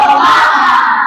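A group of scout students joins in the tepuk semangat clapping chant, a loud burst of unison voices and hands that is brief and close.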